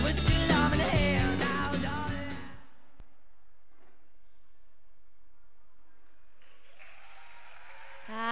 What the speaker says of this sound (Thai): ขอบคุณสำหรับเสียงปรบมือให้กับ The Strong ของเราด้วยนะ